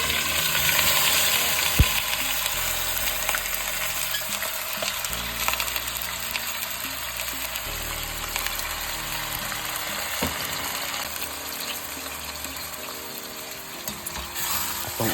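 Meat frying with browned garlic, onion and other aromatics in a pan for Boholano-style guisadong mongos, a steady close sizzle with a few stirring scrapes, continuous throughout.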